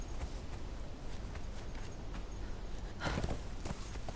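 A horse's hooves clip-clop steadily in the Conan Exiles video game, with a faint, even rhythm under a background hiss and a brief louder scuffle near the end.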